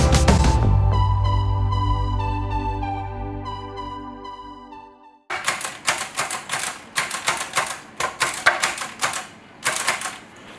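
A 1947 Remington Noiseless Model 7 typewriter is typed on in a run of close, rapid key strikes, following a long, ringing, bell-like tone that fades away.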